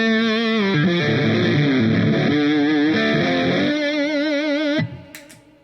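Electric guitar played on the neck pickup through a BC183 Fuzz Face pedal: thick, saturated fuzz chords and sliding notes ringing loud and sustained, then cutting off into a short fading tail.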